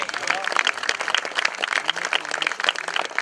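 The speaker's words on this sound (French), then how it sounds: "Madame, monsieur, vos applaudissements à Christophe" Steady applause from spectators at a cyclo-cross prize ceremony in Kerlouan-Ménéham, a continuous mass of clapping with a few cheers and someone talking over it.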